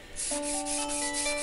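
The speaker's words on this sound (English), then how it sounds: "is sanding all the parts to make sure that everything is really nice and smooth" Wooden parts of a David's harp being sanded smooth by hand, a steady close rubbing scrape running continuously, with a faint tonal hum underneath.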